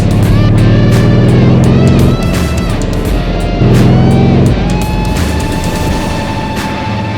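An AC Cobra's American V8 roars loudly on an open road, two strong bursts of throttle with deep rumbling revs, each falling off into lower burbling and crackling as the car settles.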